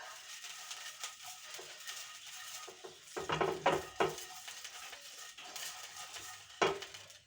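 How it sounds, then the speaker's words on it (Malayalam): Hot pan being oiled for onion dosa, with soft scraping and spreading strokes, a few louder clattering scrapes midway and near the end, and faint sizzling in between; no talking. "ചട്ടി ചൂടായിട്ട് വേണം അപ്പോൾ നമ്മൾ എണ്ണ ഒന്ന് സ്പ്രെഡ് ചെയ്ത് കൊടുക്കുക"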